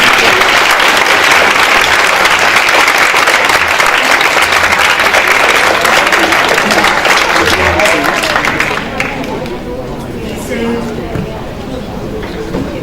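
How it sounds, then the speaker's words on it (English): A crowd at a panel talk breaks into loud, dense applause for the panelists, sustained for several seconds before it drops off sharply into quieter room noise with scattered murmurs and a few late claps. "So I just invite you all to give a big applause to all the panelists."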